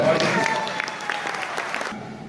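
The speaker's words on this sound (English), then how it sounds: "give him a round of applause" Audience applause at a live talk event, a short burst of dense clapping that carries on for about two seconds and then thins out quickly.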